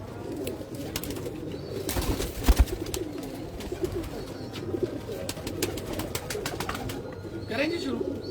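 Pigeons coo softly and repeatedly in Lahore, with low throaty calls rolling under nearby people talking, a few brief rustles and wing flaps, and steady background street noise.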